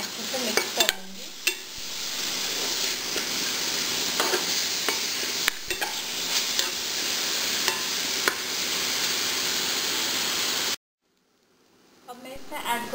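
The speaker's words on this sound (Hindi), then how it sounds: "अब मैं ऐड करूंगी 1/2 टीस्पून टर्मरिक पाउडर, अच्छे से मिक्स करूंगी।" Turmeric powder is stirred into a sizzling kidney bean curry (rajma) in a pan, a steady scraping and frying hiss with repeated spoon knocks against the pot, ending abruptly before a brief quiet stretch.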